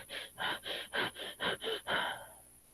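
A person imitates a puppy's panting, producing eight quick breathy bursts at an even rhythm, close and fairly loud with no talk, the last breath trailing off.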